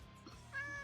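A single short cat meow rises near the end, fairly faint and brief against a steady low background hum.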